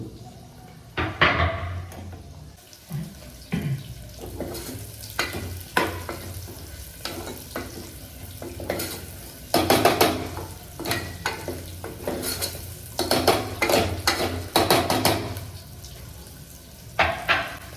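Onions, garlic and three dried red chillies sizzle in a pan of tempering oil while a spoon stirs and clatters against the metal in steady, repeated scrapes, loud and close throughout.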